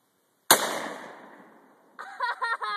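A single loud Mossberg 500 shotgun blast cracks out and decays over about a second and a half, followed by an excited voice reacting.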